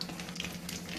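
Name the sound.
frying spices and leaves in oil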